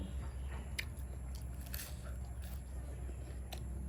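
Someone chews a banana, with soft wet biting and crunching sounds repeating close up against a steady low background hum.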